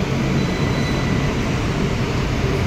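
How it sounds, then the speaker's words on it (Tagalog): Inside an MRT metro train heading to Ayala, a constant loud rumbling roar of the carriage in motion fills the space with no voices. "Sasakay kami ng MRT papuntang Ayala."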